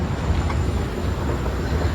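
A metro train arrives at a station in Pune, a steady low rumbling roar with rolling wheel noise, fairly loud and continuous, with no voices.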